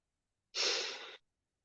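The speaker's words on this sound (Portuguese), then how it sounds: "Inspire, solta o ar bem longo" A single slow, deep exhalation during a guided meditation, a soft breathy whoosh lasting about half a second, close and clear, with silence before and after.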